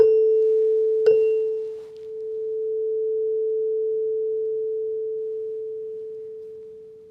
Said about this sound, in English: I hit one tuning fork and I don't hit this one, but this one still makes a sound